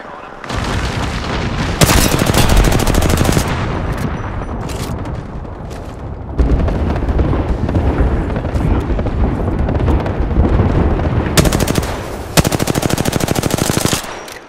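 Bursts of automatic gunfire in Apex Legends, with Bangalore in play: dense, loud volleys that surge and pause across the stretch, layered with booming impacts and game effects, while a voice speaks intermittently underneath.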